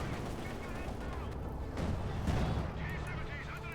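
Tank guns fire repeatedly in a Company of Heroes 2 battle, with sharp gunfire reports over a dense backdrop of combat noise and a voice talking throughout.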